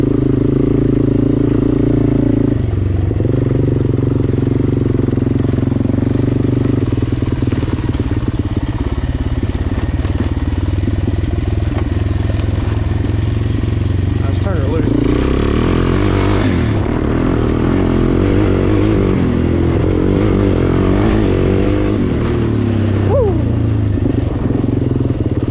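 Suzuki LTZ-400 ATV engine running close by, a loud steady idle that rises into rough revving around the middle, with sputtering fluctuations afterward.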